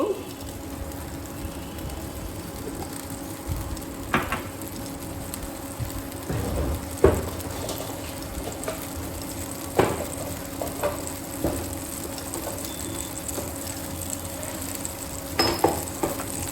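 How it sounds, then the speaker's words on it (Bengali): Cumin seeds tempering in hot oil for a vegetarian okra dish give a soft, steady sizzle, with occasional clinks of a spoon against the pan. "এবার এতে দেব আমি জিরে ফোড়ন 1/2 টিস্পুন মতো"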